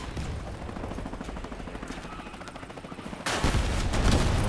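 Rapid gunfire from vehicle weapons in Crossout, machine gun fire during a brawl match, a dense steady stream of shots that grows louder and heavier in the final second.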